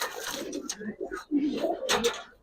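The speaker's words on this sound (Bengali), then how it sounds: "সম্পূর্ণ পুরান জাতের লাল গিয়ার কবুতর।" Red giribaz pigeons coo softly in a loft, giving several low, rolling calls in a row, while faint voices mix in.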